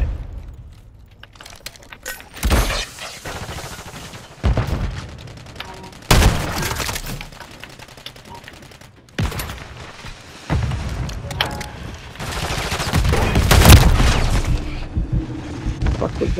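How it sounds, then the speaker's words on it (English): Scattered gunfire and heavy blasts in a Call of Duty MW3 Search and Destroy match, loud isolated shots and booms at irregular intervals over game ambience, with someone talking between them. "Somebody's shooting at me."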